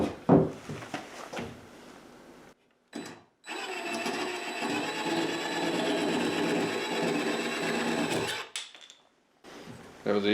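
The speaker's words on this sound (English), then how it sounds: "Just a quick little cut with the jigsaw, that'll be gone." A jigsaw makes a quick cut to trim a small tail of wood off a rabbit house build. The saw buzzes steadily for about five seconds and then stops, with short handling noises before and after.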